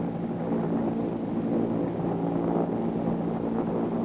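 A rescue helicopter climbing slowly away from a lifeboat during a sea rescue exercise, its steady engine and rotor drone holding a low droning tone with wind rush, continuous and fairly loud with no voices.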